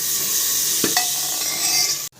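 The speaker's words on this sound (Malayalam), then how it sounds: "നന്നായി ഇളക്കി കൊടുക്കുക." Spices, tomato and curry leaves being stirred in a hot pan for a sesame meat curry: a steady oily sizzle with a few sharp spoon scrapes partway through, close and fairly loud, no voices.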